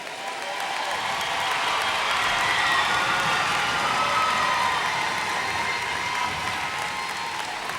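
A graduating class at an AMSC graduation ceremony gives sustained applause with some cheering, a broad, steady wash of clapping from a large crowd that holds evenly for several seconds.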